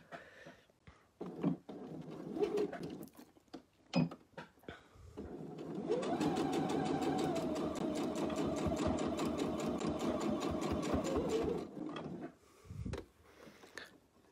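A sewing machine stitches bias binding onto a bib, running steadily for about six seconds with a fast, even whirring rhythm, framed by quieter handling and fabric clatter before and after.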